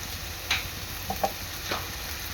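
Onions frying in a pan for tuna fish biryani, a steady soft sizzle with a few light clicks of utensils against the pan.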